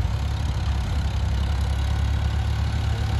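A Sonalika DI 35 tractor pulling a loaded soil trolley uphill runs as a steady, heavy diesel drone, loud and close, with a constant low throb and no voices.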